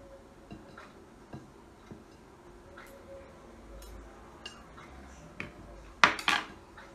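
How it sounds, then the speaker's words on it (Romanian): A knife chops green tomatoes on a board in sparse, irregular knocks, quiet against a low room hum. A sharper, louder clatter of knife and board comes near the end. "să le tocăm așa pe toate"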